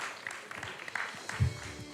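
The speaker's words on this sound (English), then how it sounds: "Let's have a huge round of applause for these kids." An audience at a Tata Steel Steel-A-Thon season finale applauds a student team, giving moderate, scattered clapping with a few sharper claps and a brief low thump partway through.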